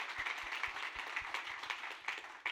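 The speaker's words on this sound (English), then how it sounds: "a big round of applause to you and the whole group here" A room of attendees at a showcase event gives a brief, moderately quiet round of applause, with distinct individual claps patting along unevenly and no talking over it.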